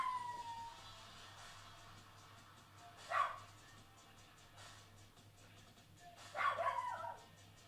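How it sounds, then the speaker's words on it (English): A large dog barks outdoors at a distance, two short bursts a few seconds apart over a quiet indoor background with a faint steady hum. "It's just a bigger dog outside."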